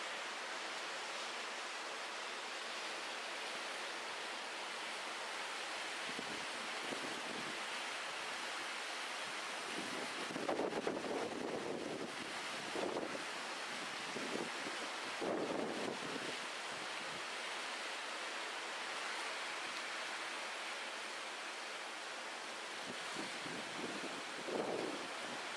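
The River Livet in Glenlivet, Scotland, running high near the Packhorse Bridge, rushes continuously, a broad even roar with occasional faint wind buffeting on the microphone.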